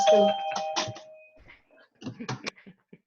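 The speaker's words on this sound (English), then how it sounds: "just going to unplug the doorbell" A doorbell rings with a few chiming tones up close, followed by scattered household knocks and rustling.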